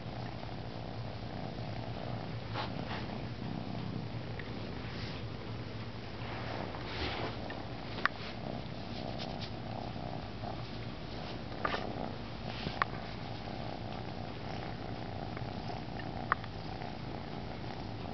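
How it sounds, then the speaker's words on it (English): A cat purrs steadily and close up, a low continuous rumbling rhythm throughout, with a few faint soft clicks and rustles. "Purring away."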